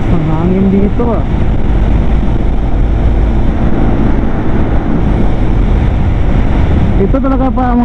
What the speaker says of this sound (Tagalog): Ang lakas ng hangin dito ah.